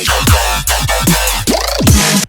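Loud electronic dance music with pumping bass hits, sweeping synth chords and a rising pitch bend, dense and continuous.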